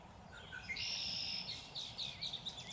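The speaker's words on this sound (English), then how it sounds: "And the birds are singing." Birds sing outdoors in bright, high, whistled phrases over a steady background hiss. The calls rise and fall in a continuous stream of chirps and trills at moderate distance.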